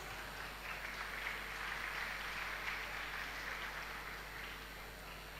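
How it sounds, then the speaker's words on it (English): Crowd applause for dignitaries at an inaugural session, an even, sustained patter of many hands clapping throughout at moderate level, alone without talk. "May we please have another round of applause for our dignitaries."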